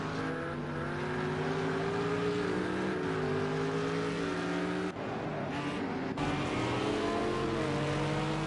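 Lamborghini Huracan GT3 race cars in a racing game, engines droning steadily, with rising and falling gear-change pitch sweeps as the field accelerates together, loud and continuous with a brief break midway.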